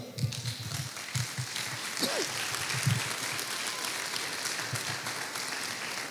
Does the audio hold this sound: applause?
yes